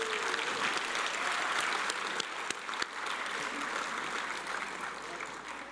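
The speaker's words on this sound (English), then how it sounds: "Let us give Rene and the outgoing board a warm round of applause" An audience gives the outgoing board a warm round of applause at the Management Association of the Philippines inaugural meeting and board induction: dense, steady clapping from a large crowd, loud and sustained throughout, with no talk over it.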